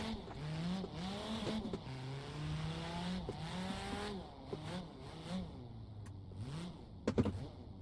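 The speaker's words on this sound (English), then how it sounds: "I want to be able to hold it open wide and just hear the V10" A V10 car engine in the racing game Assetto Corsa revs and whines continuously, pitch rising and falling through gear changes, with a brief clatter near the end.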